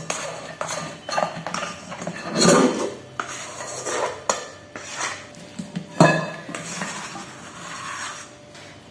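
Dishes and utensils clatter as a cooking mixture for a hazelnut Christmas log is moved into a new bowl to stop it cooking, with close clinks, scrapes and knocks of metal and glass in an irregular run.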